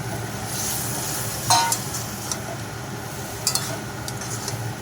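Green beans tossed into a spiced gram-flour masala in a pan, frying with a steady low sizzle while a spatula scrapes and stirs in a few sharp, close strokes.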